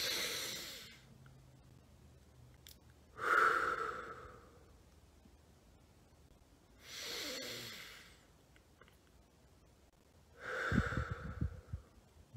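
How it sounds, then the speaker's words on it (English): Slow, deep belly breathing done as a rhythmic relaxation exercise: three long, airy breaths spaced a few seconds apart, each swelling and fading, the last ending in a rougher exhale. The breaths are close and clear, with no talk over them. "deep belly breathing, rhythmic breathing, feel the breathing go into your belly, into your diaphragm"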